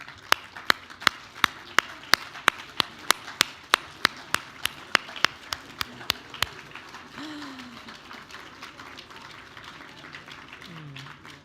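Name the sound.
audience applause at a gala dinner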